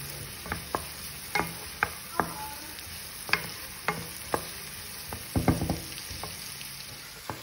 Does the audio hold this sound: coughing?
no